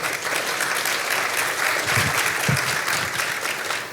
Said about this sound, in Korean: 두 분이 큰 박수 주시죠